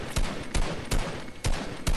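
Gunfire in Fortnite, five sharp, loud shots spaced roughly every half second over a constant background hum.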